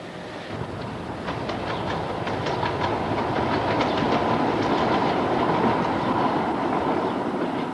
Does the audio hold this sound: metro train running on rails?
yes